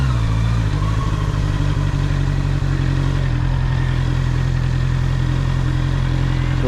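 Honda CB650R motorcycle engine running steadily nearby, a continuous low idle rumble with faint mechanical clatter over the full stretch, no voices.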